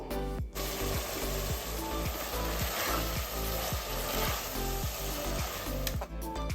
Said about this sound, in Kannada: ಮಶ್ರೂಮ್ನ ಚೆನ್ನಾಗಿ ತೊಳೆದು ಸ್ವಲ್ಪ ಎಣ್ಣೆ ಹಾಕಿ ಫ್ರೈ ಮಾಡ್ಕೋಬೇಕು